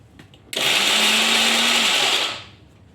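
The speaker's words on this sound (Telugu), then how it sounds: "మిక్సీ వేద్దాం" Mixer grinder whirring in a small jar as curry leaves are ground for pickle, a loud steady motor roar starting abruptly, running about two seconds and winding down, with no talking.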